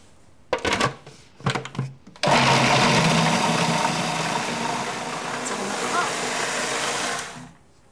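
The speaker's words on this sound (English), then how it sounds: "Time to blitz." A blender blitzes a load of onions in a kitchen: a few short stuttering pulses, then one loud sustained whirring run of several seconds that stops abruptly.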